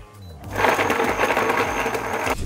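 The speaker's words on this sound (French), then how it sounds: "Ça, on va le mixer. Ça, on va faire une petite purée." A blender purées quince trimmings with their seeds and flesh, giving a loud, steady whirring grind that starts abruptly, runs for about two seconds and then cuts off.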